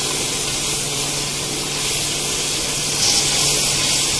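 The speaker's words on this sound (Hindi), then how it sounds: "टमाटर डाल के भी हमें इस मसाले को बहुत अच्छी तरह से भूनना है" Finely chopped tomatoes and spice masala fry in a pan for a dhaba-style lauki chana dal, giving a steady, close, continuous sizzling hiss with no talking.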